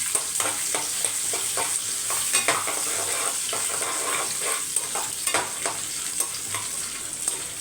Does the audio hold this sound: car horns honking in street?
no